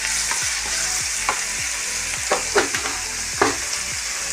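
Sliced onions fry for a Kerala-style small banana mezhukkupuratti, a steady loud sizzle with a few sharper clicks and scrapes of stirring in the pan, no voices.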